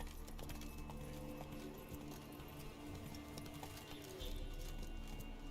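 Roach the horse gallops in Witcher 3, its hooves clip-clopping in a brisk, steady rhythm over game ambience, with a heavier rumble near the end.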